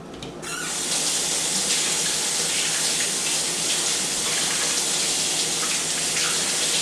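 Water runs steadily from a kitchen faucet as hands are washed, a close, continuous splashing rush with no talk.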